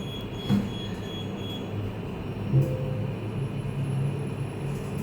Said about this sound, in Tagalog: Buti na lang ang MRT dito